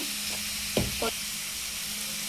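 Radish pieces fry in a pan with a steady close sizzle, broken by a couple of brief scraping knocks from a spoon stirring, with no talking.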